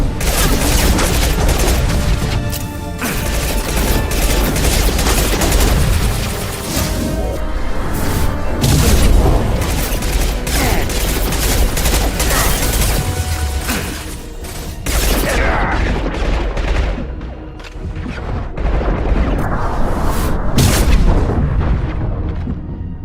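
Loud, dense combat from the video game Mass Effect 2, with heavy booming gunfire and high-impact shots landing in rapid bursts, layered over a constant mechanical din with no pause for the full stretch.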